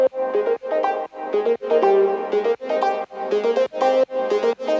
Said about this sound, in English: Which is an octave lower than the original.